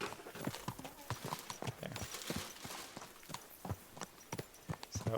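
A horse walking in Kingdom Come: Deliverance II, its hooves clip-clopping in a steady, fairly quick rhythm at close range and moderate volume, with no talking over it.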